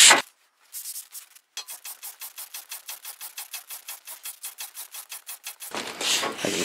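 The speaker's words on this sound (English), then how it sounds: "take some 600 grit sandpaper and clean up this sealing surface here" 600-grit sandpaper rubs back and forth over the sealing surface of a Dana 44 axle in a steady, rhythmic run of about twenty quick rasping strokes, close and clear, followed by a louder rough scrape.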